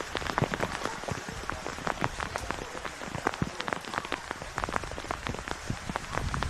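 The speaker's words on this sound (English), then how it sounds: "There's the rain." Heavy rain pours down outdoors at a women's first-grade football match, a dense patter of drops striking surfaces close by, steady and fairly loud for about six seconds, with no voices.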